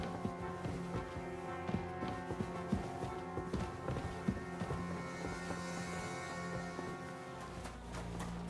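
Horses plod along with a steady clip-clop of hooves, repeated hoof knocks sitting under a dense bed of music through most of the stretch, moderately loud.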